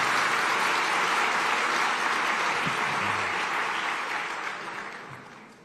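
Sustained applause from a large audience, thick and even, gradually fading toward the end.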